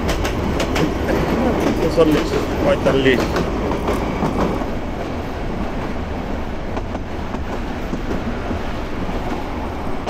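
Hawr Express passenger train runs on rails at night past Netrokona, with steady wheel rumble and rhythmic clickety-clack heard from inside a carriage, while a voice speaks over the noise.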